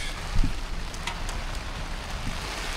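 Torrential rain beats on a budget hot tent with a wood stove burning inside, a steady dense hiss of drops drumming on the fabric, with a few soft crackles and taps close by.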